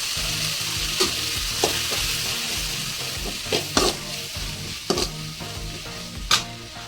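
Chili powder masala for drumstick sambar fries in a pan, a continuous close sizzle with a spatula scraping and tapping the pan at irregular intervals, no talking.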